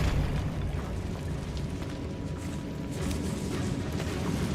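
A Bombarda spell blast in Hogwarts Legacy rumbles in a fairly quiet catacomb scene, a continuous low eruptive roar with small crackling bursts layered on top, lasting several seconds with no voices.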